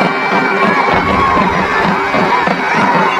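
A dense crowd roars and cheers without a break at a bloody human sacrifice atop a pyramid, loud and sustained, with shouts and chatter mixed into the din.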